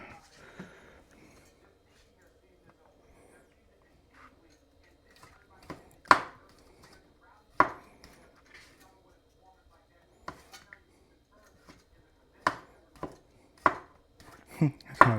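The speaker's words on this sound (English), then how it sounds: "let's go ahead and get some toppings cut." Knife chopping pizza toppings thin on a cutting board beside a Kano 4 pizza oven, sparse sharp chops and taps spread out irregularly, fairly close, with quiet gaps between strokes.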